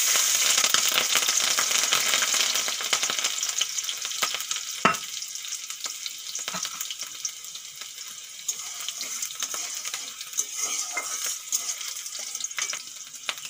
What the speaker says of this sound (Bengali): তেল গরম হয়ে গেছে, ফোড়নে দিয়ে দেব আমি কালো জিরে আর কয়েকটা চেরা কাঁচা লঙ্কা